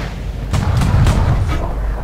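A few heavy booming tank cannon shots in a game, low rumbling blasts spaced irregularly over steady background noise.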